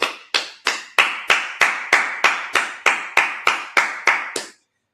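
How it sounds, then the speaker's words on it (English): A congregation claps at a Sabbath service: about thirteen sharp, evenly spaced claps in a steady beat, loud and close, then silence. "Let's clap it up."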